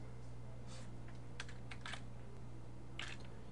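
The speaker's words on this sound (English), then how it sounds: "I'm gonna just type the new date" Keys clack faintly on a computer keyboard in short irregular bursts over a constant low electrical hum, a brief flurry of typing followed by a pause and one last tap.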